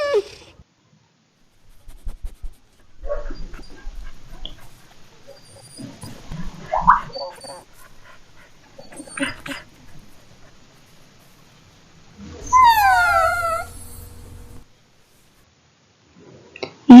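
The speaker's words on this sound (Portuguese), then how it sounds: "esse aqui é o som de um grunhido, ou o som de um choro de um cachorro" A dog whimpers and growls in a few scattered, fairly close bursts, with a rough whining stretch near the end that carries drawn-out falling tones, separated by quiet gaps.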